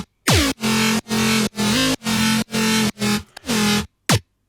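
Bass house second-drop lead synth, a bright buzzy tone fired in loud, even stabs with short gaps between, pitch bending down on the first and last hits, alone with no voice.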